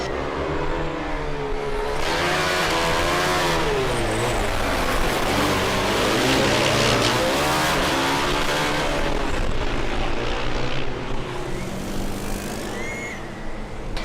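Formula Student electric race car in driving mode at an endurance event, a loud sustained high-pitched electric drive whine with wavering pitch, steady and close, over a broad wash of background noise.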